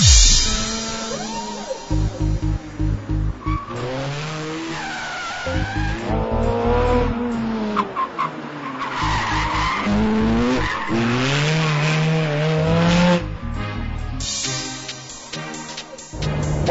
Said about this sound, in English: let's go and drive the Ferrari Scuderia